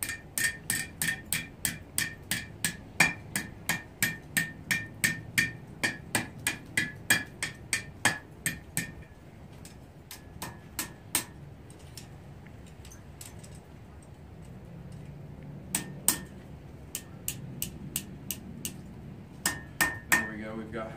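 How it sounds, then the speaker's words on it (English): A hammer taps on a metal chain link being twisted at a blacksmith demonstration in St. Augustine, Florida, starting with a fast steady run of sharp metallic strikes, then pausing before sparser, irregular taps return close to the listener. "I could tap on it here with my hammer."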